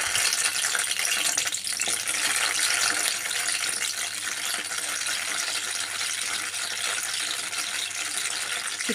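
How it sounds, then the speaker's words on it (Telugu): Ten green chillies fry in about three spoons of hot oil in a pan, giving a steady, dense sizzle and crackle close by with a few soft stirring scrapes, no voices over it. "ఇక్కడ నేను 10 గ్రీన్ మిర్చి తీసుకున్నాను. వీటన్నిటిని ఫ్రై చేయాలి."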